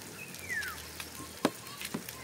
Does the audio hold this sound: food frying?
yes